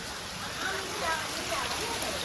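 Heavy downpour during a torrential monsoon storm in a Gujarati village near Mahuva: a dense, steady hiss of rain pouring continuously, loud and close, with no pauses.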